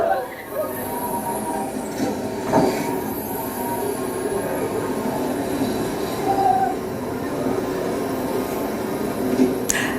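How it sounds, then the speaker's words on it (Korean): An inertia train amusement ride runs along its rails, a loud steady rumble with clattering wheels and a few sharp squeals, with faint voices in the background. "그리고 관성열차입니다."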